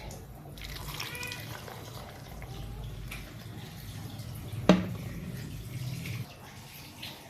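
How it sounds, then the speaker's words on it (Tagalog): Water runs and splashes softly into a container holding honey, a faint steady trickle with one sharp clink partway through. "Lagyan natin ng tubig."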